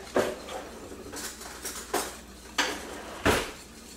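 A spoon stirring cheese into Alfredo sauce in a metal pot, with several distinct clanks and scrapes against the pot sides at irregular intervals over a soft background.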